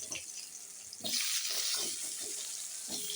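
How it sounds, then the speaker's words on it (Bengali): Potato pieces frying in hot oil in a pan, part of a cabbage dish cooked with fish head, giving a steady bright sizzle that swells once more food is added, with stirring clatter and no speech. "আলুগুলো এবার তেলের মধ্যে আমি লাল লাল করে ভেজে নেব।"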